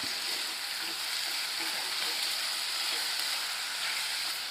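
Tomato sizzling and frying in a pan with mutton bones for a bone curry, a steady loud hiss and crackle filling the whole stretch with no voices over it.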